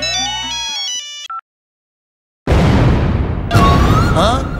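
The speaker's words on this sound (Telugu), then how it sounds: "ఇదేంటి బాంబులు పేలుతున్నాయి" Firecrackers going off during the Sankranthi festival: after a short phone ringtone and a pause, a loud, dense burst of crackling explosions erupts and keeps going, with a second sharp volley near the end.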